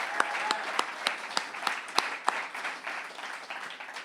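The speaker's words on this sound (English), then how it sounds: "how about a round of applause for Keeley" An audience at a literary reading event applauds, a steady patter of many hands with a few sharp, close claps standing out, fading gradually toward the end.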